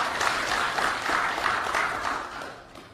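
A crowd applauds at a gathering of Dayak representatives from the Borneo alliance in Kalimantan, a dense wash of clapping that holds steady and then slowly tapers off.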